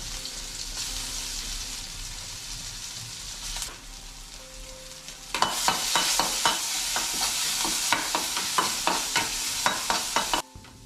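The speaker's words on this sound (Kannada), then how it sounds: "ಇದನ್ನು ಸ್ವಲ್ಪ ಹೊತ್ತು ಫ್ರೈ ಮಾಡ್ತೀನಿ." A ground spice paste hits hot oil in a pan, then sizzles and fries loudly with repeated scraping stirs, close and steady, without speech.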